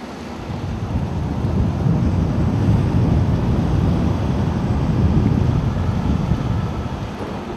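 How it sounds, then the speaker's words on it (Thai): Swift floodwater rushing past a flood relief center in Non Sung district, a steady broadband roar that holds loud and continuous throughout with no talking. "น้ำเชี่ยวกราด"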